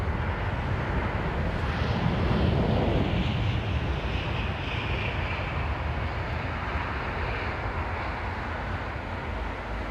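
Qatar Airways Airbus A350 going around at London Heathrow, a steady broadband jet roar heard from a distance that swells slightly around two seconds in and then holds, with wind buffeting the microphone throughout.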